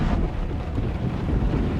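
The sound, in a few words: tornado wind in video game Hitchhiker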